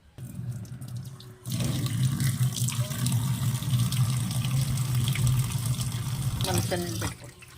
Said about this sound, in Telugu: చన్నీళ్ళు పడుతున్నారు చన్నీళ్ళు పడుతున్నారా